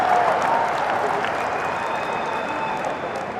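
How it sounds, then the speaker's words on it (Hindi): Crowd applause at a political rally in India, a steady, dense wash of clapping from a large audience that holds evenly throughout before tapering slightly near the end. "ठोको ठोको ताली ठोको"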